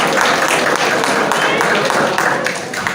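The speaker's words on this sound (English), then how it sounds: "Give them a big round of applause." Audience applause at a motivational talk on positive attitude, a dense, loud wash of clapping filling the whole moment with no break, with voices mixed in beneath it.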